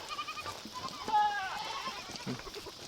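Goats being herded to their pen for the night let out several close, wavering bleats, one louder and longer than the rest, while people talk quietly nearby.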